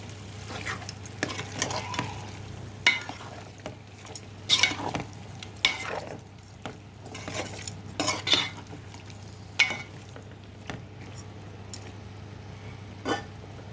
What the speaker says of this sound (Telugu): ఇవన్నీ కలిసేలా మిక్స్ చేసుకుందాం